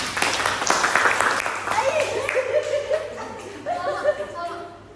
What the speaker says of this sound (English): So give applause for Salma.